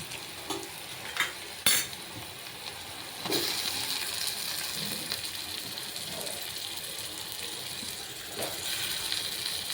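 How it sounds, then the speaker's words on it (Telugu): Tomato pieces fry with onions, green chillies and curry leaves for an egg curry, a steady sizzle following a few sharp clinks and scrapes from a utensil, close and fairly quiet, with no speech. "ఇందులో ఇప్పుడు టమాటా ముక్కలు వేసుకున్నాను నేను"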